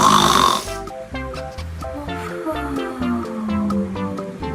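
A cartoon character snores while asleep, loud exaggerated rhythmic snores with a drawn-out sliding tone, set against playful background music.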